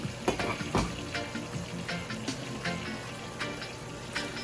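Rice simmering in coconut milk for rice and peas, stirred in the pot with a spoon, giving soft wet scrapes and bubbling sizzle, with a few sharper clicks of the utensil close by.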